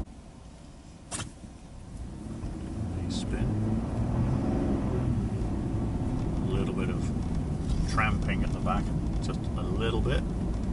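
A 4x4 in four-high on General Grabber X3 and ATx tyres drives steadily, a continuous engine and tyre rumble building after a brief thump and holding at a fairly loud, even level.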